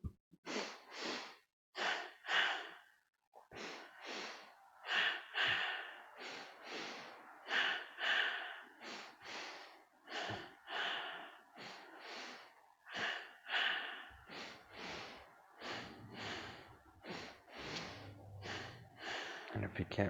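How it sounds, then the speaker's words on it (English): Pranayama breathwork in a two-stroke pattern: quick paired nasal sniffs on the inhale and paired pushes on the exhale, repeating steadily and closely for the whole stretch with no other sound. "Eyes closed, 2 stroke inhale,"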